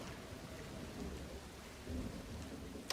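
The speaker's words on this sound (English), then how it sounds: "I'm in the midst of building this crazy park in the middle of absolutely torrential rain" Torrential rain pours steadily in a park-building video game, a dense constant hiss of heavy downpour with a low rumbling undertone, unbroken and fairly faint, with no voices.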